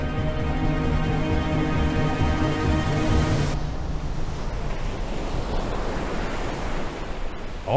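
Sea waves roll in a horror video game, a continuous wash of surf and wind-like noise that starts under sustained tonal music and then carries on alone.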